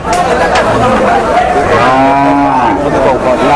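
A Sindhi-breed cow at the Aricha cattle market lets out a loud, close, drawn-out moo, heard over the murmur of a busy crowd with people talking nearby.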